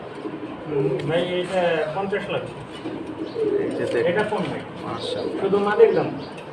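A pair of pigeons coo at a busy pigeon market, soft repeated coos mixed into steady crowd chatter and someone talking nearby.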